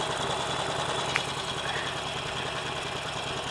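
A motorcycle engine idles at roughly 1100 rpm, a close, steady mechanical hum with a faint tick of knocking and no rise or fall in pitch.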